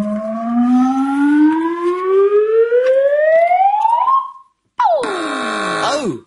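Comedy quiz show buzzer sound effect, a loud rising siren-like wail sweeping upward for several seconds, a brief gap, then a harsh falling electronic blare.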